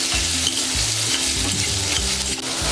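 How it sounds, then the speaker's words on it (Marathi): Chopped onion frying in oil in a pan while being stirred, a steady close sizzle with repeated scraping and stirring strokes of a spoon throughout. "कांदा आपण व्यवस्थित असं परतून घेऊया तेलामध्ये."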